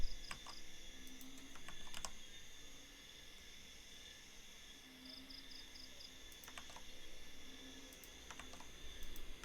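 Keys on a computer keyboard tapped in a few short, quiet bursts while code is typed, with faint steady background hiss between the clusters of clicks.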